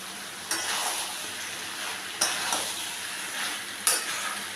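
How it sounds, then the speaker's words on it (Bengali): Jackfruit being stirred into fried lote dried fish in a Bangladeshi Cumilla-style curry, with a steady oily sizzle and three distinct scraping stirs spaced a couple of seconds apart, no voices. "এখন আমি এটার মধ্যে এঁচোড়টা মিশিয়ে নেব।"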